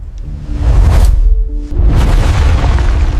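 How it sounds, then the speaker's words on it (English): A torpedo strikes a US destroyer at dawn, producing a deep, sustained booming explosion that rolls on for several seconds with a brief dip midway, loud and close with no talking. "The impact is a dull, catastrophic thud that resonates through the entire length of the ship."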